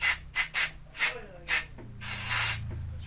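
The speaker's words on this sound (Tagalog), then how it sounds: "isprayan lang natin siya ng cleaning oil natin." Cleaning oil is sprayed onto a 5.56 R4 rifle in several short, sharp hissing bursts up close, followed by one longer spray, with no talking.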